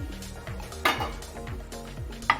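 Lotus root, potatoes and peas are stirred in a pan with a utensil, giving steady rhythmic scraping and clinking against the metal, close up, with a couple of sharper knocks and a faint sizzle.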